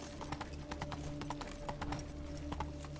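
Roach, a horse in The Witcher 3, trotting with quick, close, rhythmic hoof clip-clops over a low steady background hum, no voices.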